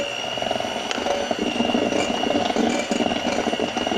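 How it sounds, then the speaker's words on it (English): Electric hand mixer whipping butter and cream cheese in a bowl, a steady close whine with rattling, grinding beaters throughout, with no voices. "So I'm going to use my mixer just for a minute just to get that soft."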